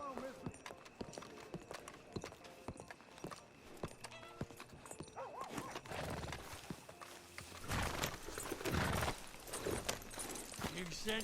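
Horses' hooves clopping as riders set off, rhythmic clip-clop growing louder toward the end, with a neigh and people talking over it.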